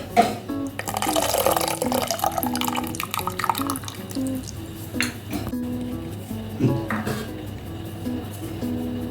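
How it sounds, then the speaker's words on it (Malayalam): Water squeezed from soaked onions is poured into a fish-less curry in a pan, with liquid splashing and pots and utensils clinking nearby. "ഉള്ളി വെള്ളത്തിലിട്ട് വെച്ചിരുന്നിട്ട് അതിനെ നന്നായിട്ട് പിഴിഞ്ഞെടുത്ത വെള്ളമാണ്"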